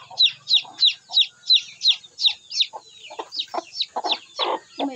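Rapid, repeated clucking from chickens, a quick regular series of sharp calls followed by a looser run of clucks, close and clear.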